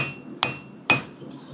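A hammer strikes metal three times to flatten it, two sharp ringing blows close together followed by a softer third tap, each with a short metallic ring-out in an otherwise quiet space.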